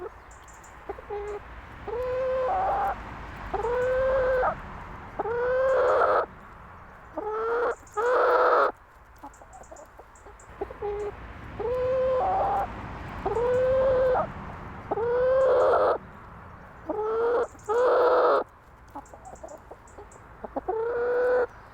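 Chicken clucking outdoors, recorded close to the microphone. Short bursts of repeated calls come in clusters, separated by quiet pauses, with no talking.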